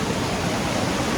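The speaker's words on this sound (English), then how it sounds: "See the sights like this waterfall here." Waterfall at a treehouse attraction in Disneyland Paris, a dense steady roar of falling water filling the whole moment, close and loud with no voices.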